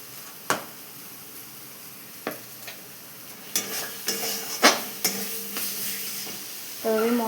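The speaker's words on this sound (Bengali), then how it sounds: "এবার আমি মশলাটার মধ্যে সেই গরম জলটা দিয়ে দিচ্ছি।" Hot water poured into frying masala in a pan, bursting into loud, close sizzling after a few sharp clicks and taps, the hiss swelling and fading in waves with stirring scrapes throughout.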